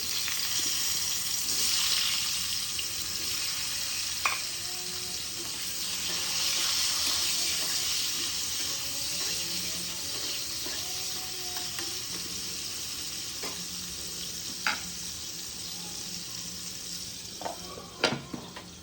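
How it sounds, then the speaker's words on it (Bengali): Potato pieces frying in oil in a pan give a continuous close sizzle, with occasional utensil clinks and taps rising toward the end, no speech over it. "এবার ওই তেলটাতেই একটু আলু ভেজে নেব ভালো করে"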